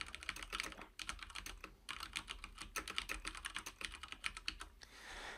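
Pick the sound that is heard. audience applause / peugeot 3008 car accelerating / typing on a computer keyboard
typing on a computer keyboard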